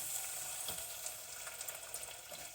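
Blue oyster mushrooms frying in a heavily buttered pan on moderate heat, giving a steady, soft, close sizzle with faint crackles throughout.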